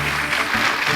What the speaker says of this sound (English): Let's give a big round of applause for these folks.